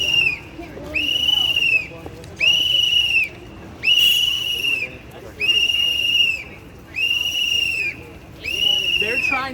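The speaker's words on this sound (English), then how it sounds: "Blowing your whistle." A protester blows a shrill whistle in seven long, evenly spaced blasts, loud and close, with a murmur of voices and crowd noise between blasts.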